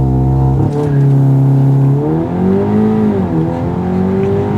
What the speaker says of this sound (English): let's go ahead and launch control real quick